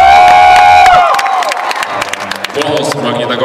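A loud festival crowd cheers, whoops and claps as finalist groups are announced, with a sustained tone in the first second giving way to bursts of clapping and shouting voices.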